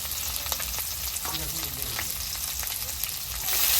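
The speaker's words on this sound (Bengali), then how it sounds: "পেঁয়াজ আর রসুন অর্ধেক ভাজা হয়েছে" Chopped onion and garlic frying in hot oil with garam masala, a steady close sizzle with faint scraping stirs throughout, the hiss swelling louder in the final half second.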